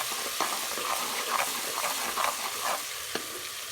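Ginger garlic paste is stirred into sizzling beef keema in a hot pan, with a steady frying hiss and a run of soft, rhythmic scraping strokes close up.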